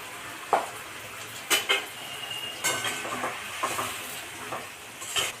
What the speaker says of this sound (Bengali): এবার আমি ভালো করে কষিয়ে নেবো